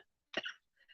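A single short, quiet cough from one person close by, followed a moment later by a fainter throat sound, with no talking around it.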